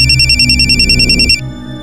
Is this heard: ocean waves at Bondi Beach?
no